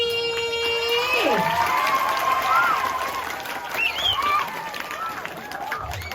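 An audience applauds during a Balinese Calonarang performance. The clapping and crowd noise are moderately loud and steady, with voices calling and talking over them throughout.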